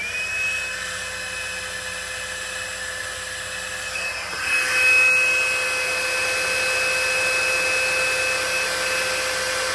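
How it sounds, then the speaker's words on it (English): Handheld heat tool warming embossing powder on a Halloween treat box, a steady faint whirring blower hum with a high whine, briefly swelling midway, alone without talk. "So I'm going to get my heat tool and warm that up just a minute."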